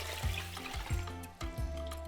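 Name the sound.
rinsing Japanese short grain rice with water in bowl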